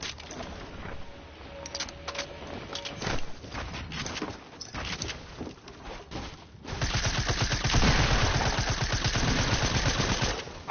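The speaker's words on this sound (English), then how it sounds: "I saw SMG spamming." A submachine gun in a video game fires repeatedly: scattered sharp shots at first, then a long, dense, rapid stream of loud automatic fire near the end.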